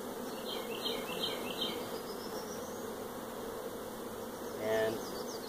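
A dense, steady buzz of many honeybees hums close by at an open hive, with a few louder passes of individual bees flying near.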